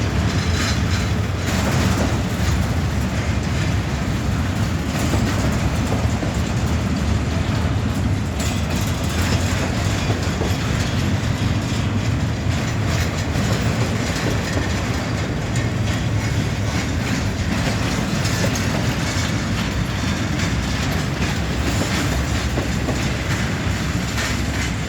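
Norfolk Southern and Union Pacific freight locomotives rumble past at night, a loud, steady roar of engines and rolling rail cars with clickety-clack wheel noise that continues throughout without talk.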